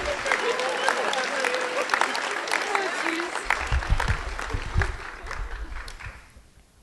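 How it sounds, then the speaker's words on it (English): An audience at a school spring concert claps loudly in steady, dense applause that fades out toward the end. "May we have a round of applause for them?"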